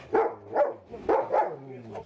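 A dog barks in a war-damaged area of Luhansk region, four close, clear woofs in two quick pairs.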